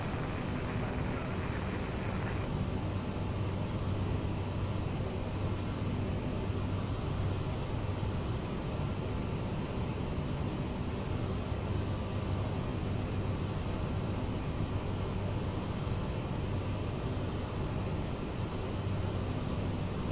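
Sustained roar of a CRJ jet airliner's engines taking off in an Aerosoft CRJ flight simulator, a steady loud broadband rumble with a low drone lasting throughout, no talking.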